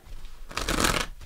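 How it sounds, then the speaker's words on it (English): Tarot cards shuffled by hand during a weekly reading, a brief crisp riffling burst of about half a second, close and fairly quiet, with no voices. "One more shuffle."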